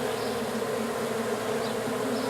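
A colony of bees inside a speaker box hive drones in a dense, even buzz, steady and fairly close, with no other sounds or voices.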